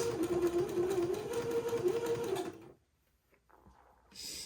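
A sewing machine zigzag-stitches lace, a close steady motor hum with a rapid rhythmic needle pattern for about two and a half seconds, then stopping into near silence and a brief rustle.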